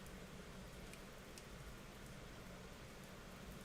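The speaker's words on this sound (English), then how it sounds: "Can you hear the rain?" Steady hard rain falling outside a window, a continuous even hiss with faint scattered drop ticks, constant in level throughout with no one speaking.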